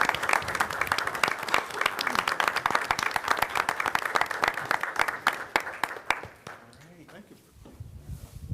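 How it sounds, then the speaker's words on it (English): Brisk, close applause from attendees at an Iowa City council meeting, dense individual claps for around six seconds before thinning out, with murmured voices in the room as it dies down. "So if we can give them a round of applause and have them come up"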